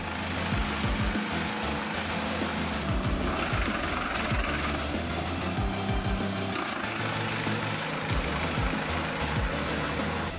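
A GreenTech Sheeter 30 wood chipper with a 30 horsepower motor runs steadily, giving a continuous low engine drone with a rough, rattling mechanical texture and no talk over it.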